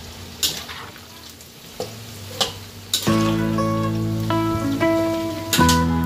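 Food frying and sizzling in a pan while being stirred for a Filipino tasty home-cooked dish, with steady loud sizzle, scraping stirs and a few sharp clinks of the utensil against the pan.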